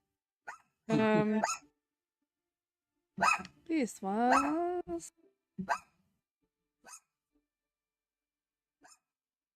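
A pet dog barks a few times indoors during a live stream, sharp separate barks near the mic mixed in with a person talking, then a couple of faint short yaps trailing off.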